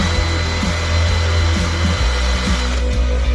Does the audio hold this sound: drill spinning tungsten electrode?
yes